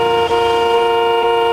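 A car horn honks in one long, loud, steady toot held close and unbroken, with nothing else over it.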